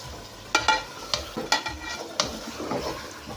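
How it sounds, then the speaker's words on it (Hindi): Chicken frying with spices in a pot for biryani, stirred so several sharp clinks and scrapes stand out over a low, steady sizzle. "ये तमाम चीज़ें जो है वो एक साथ ही फ्राई हो जाएंगी"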